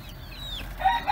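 Brief, faint clucking and a short call from chickens with a rooster in a backyard coop, close by but quiet over low background noise.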